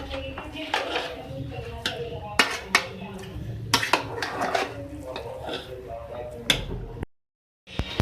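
Chicken pulao stirred together with fried onions in a metal pot, the spoon clanking and scraping against the sides in irregular knocks, with a voice present between the clatter and a short silence near the end.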